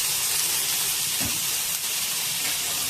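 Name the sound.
ginger and garlic frying in oil with onion and tomato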